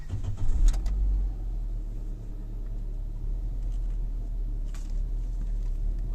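A Nissan Almera engine idles after a cold start, a steady low rumble under a faint pulley whine or buzz. A brief clatter comes early on, and the engine then runs evenly and alone throughout.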